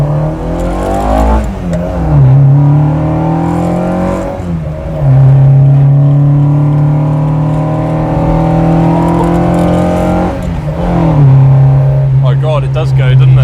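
A modified 1984 Ford Capri Mk3 with a 2.1 litre Pinto engine drives along a straight road, its loud engine drone climbing through the gears with a few distinct shifts; someone talks over it.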